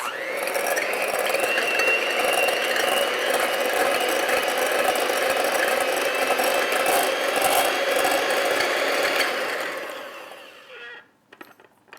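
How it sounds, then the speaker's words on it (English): An electric hand mixer beats hot cream puff choux dough, a steady whirring, rattling motor drone with mechanical grinding texture running loud and close for about ten seconds before cutting off into brief quiet handling sounds. "now I take my mixer and mix this"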